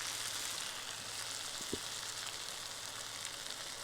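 Curry leaves dropped into a pan of frying potatoes give a steady, even sizzle throughout, with a single soft clink of a utensil about midway. No one speaks.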